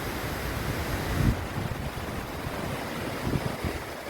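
Broad steady rushing of a waterfall in a canyon in Montenegro, heard from a distance with heavy wind buffeting the microphone and no voices.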